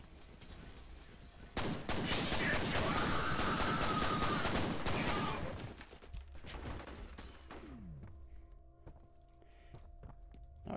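A long, dense burst of rapid gunfire from a gun in F.E.A.R., loud and continuous for several seconds before cutting off, followed by quieter clanks, thuds and game effects.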